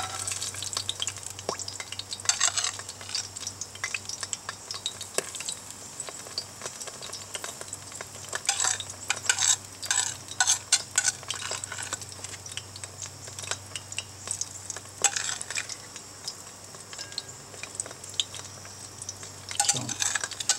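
Canned chili relleno in egg batter frying in hot oil, a steady crackling sizzle with bursts of louder popping and a few faint utensil clinks throughout.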